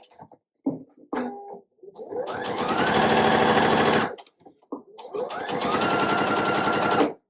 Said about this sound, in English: I'm going to lower my presser foot and make sure that that line is going to go right down the center, so the needle goes right on the line.